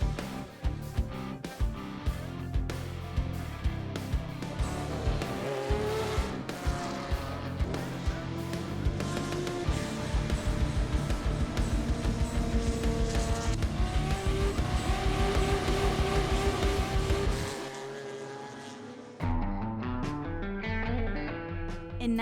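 Race cars run at the Road Atlanta track, with loud, layered engine roar and rising and falling pitch as cars pass. The roar drops suddenly near the end, and a quieter engine tone continues.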